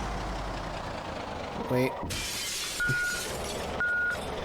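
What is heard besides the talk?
vehicle reversing beeps from a van in Project Zomboid video game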